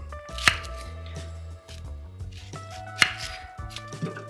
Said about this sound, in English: let's go ahead and give the onion a quick chop